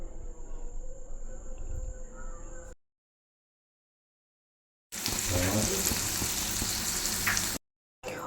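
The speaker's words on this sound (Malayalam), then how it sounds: "ഒരു സൈഡ് ഫ്രൈ ആയിട്ടുണ്ട് നമുക്ക് സൈഡ് പതുക്കനെ ഒന്ന് തിരിച്ച് മറിച്ച് വിട്ടു നല്ലപോലെ ഒന്ന് ഫ്രൈ ആക്കി എടുക്കാം" Prawns frying in oil with curry leaves, a loud close sizzle and crackle that starts abruptly after a silent gap, following a softer, quieter stretch of low frying hiss.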